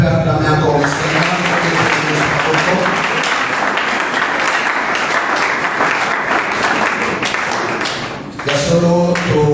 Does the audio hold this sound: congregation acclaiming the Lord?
yes